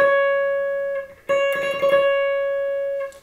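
Electric guitar picking the closing riff pattern of a guitar solo, a sustained tuned note ringing clearly, then a fresh attack with a quick burst of picked notes that rings out and decays, played alone.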